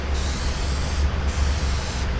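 Spray coating is applied to a carbon fiber interior piece from a BMW E36, a continuous close hiss of aerosol or spray gun that pauses briefly between passes, with no talking.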